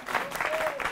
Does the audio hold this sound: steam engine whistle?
no